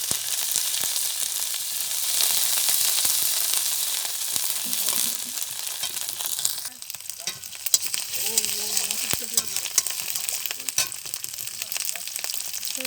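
Chopped onion and ginger fry in a pan, giving a steady close sizzle with scraping and clattering stir strokes throughout, the hiss easing somewhat partway through.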